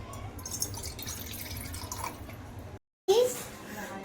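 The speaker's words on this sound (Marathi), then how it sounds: "आपण हे पाणी टोपामध्ये टाकूया." Water poured into a cooking pot for black tea gives a steady trickling splash under speech, broken by a brief silent gap near the end.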